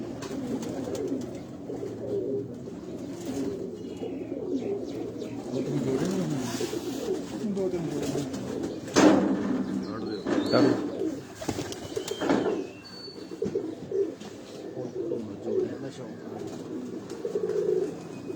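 Pigeons coo repeatedly in low, throaty murmurs amid a busy flock, with scattered wing flaps and clatter nearby.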